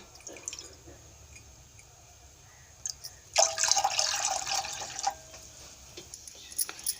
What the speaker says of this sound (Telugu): ఇప్పుడు ఇంకో కప్పు వాటర్ కూడా పోసేసుకుందాం